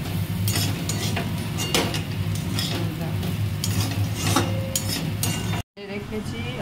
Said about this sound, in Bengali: আর এই যে আলু ভাজা ভাজছি।